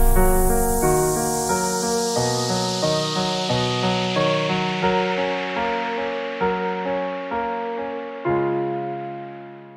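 A synth remake of a song slowed from 90 to 62 BPM plays alone: sustained chords and a melodic line pulse in a steady rhythm, each note swelling and decaying, with bright airy synth tones over a low bass.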